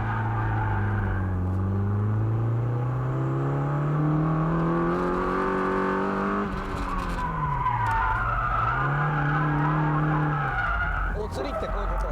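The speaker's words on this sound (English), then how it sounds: "As a result, my car just lost control." A car drifts with the e-brake pulled and loses control, tires squealing loudly in long, shifting howls over a revving engine as it skids and spins out. A voice talks over part of it.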